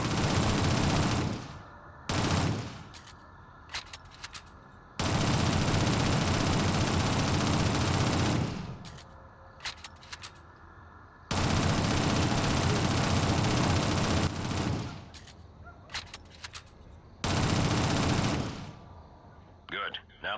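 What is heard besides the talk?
SMG gunfire in video game Shadow Run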